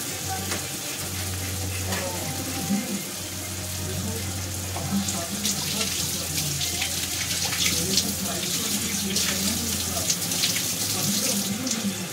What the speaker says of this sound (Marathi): आपण या मसाल्यात पाणी घालून घेतलं